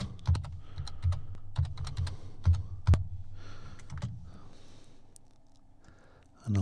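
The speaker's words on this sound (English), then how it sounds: "So I'm going to type in a paragraph," Irregular clusters of key clicks from a computer keyboard while text is entered, crisp and close, with bursts of typing separated by short pauses before a quieter stretch.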